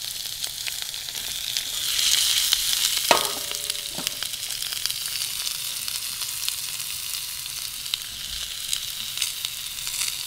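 Precooked beef frying in oil in a pan on a woodstove inside a winter camping tent gives a steady, close sizzle, with a brief metallic clatter partway through and no talking.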